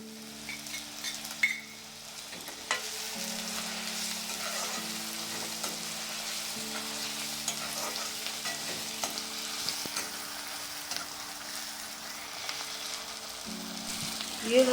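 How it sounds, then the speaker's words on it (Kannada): Onion with garlic-ginger paste frying in a pan for masala upma, a steady close sizzle with occasional stirring scrapes and a low tonal hum underneath. "ನಂತರ ಬೆಳ್ಳುಳ್ಳಿ ಶುಂಠಿ ಪೇಸ್ಟನ್ನು 1 ಸ್ಪೂನ್ ಹಾಕಿ ಚೆನ್ನಾಗಿ ಫ್ರೈ"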